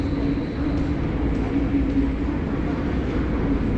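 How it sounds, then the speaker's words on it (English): A Vienna underground metro train runs with a loud, steady rumble and rail roar throughout, close by and without pause, with a faint hum running through it. "In the Vienna underground train system."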